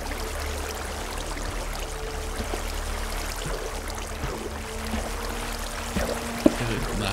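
Steady flowing water in Minecraft, a continuous soft trickling wash holding an even level throughout, with one brief sharp click near the end.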